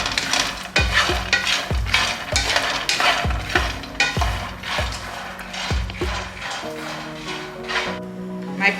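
Peanuts being toasted in a pan are stirred with a regular rhythm of hard rattling scrapes, each stroke a loud close clatter of nuts against metal, repeating about once a second.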